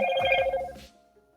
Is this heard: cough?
no